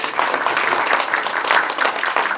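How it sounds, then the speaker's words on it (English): Steady applause from a crowd, a dense wash of many hands clapping continuously at an even level throughout. "So please give them a round of applause."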